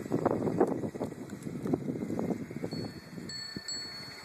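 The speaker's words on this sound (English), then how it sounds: "It's windy." Wind rushes through trees outdoors in a steady, blustery roar with gusty swells, loud and close, mixed with buffeting against the microphone and faint birdlike chirps near the end.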